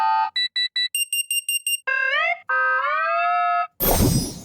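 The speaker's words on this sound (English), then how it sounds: "So we have everything from alarm sounds" Synthesized alarm preset from the UVI Click UI sound synth: a sequence of electronic alarm tones, with rapid pulsing beeps, rising and falling warbling tones and sustained harmonic buzzes, ending in a short noisy burst, loud and close with no talking.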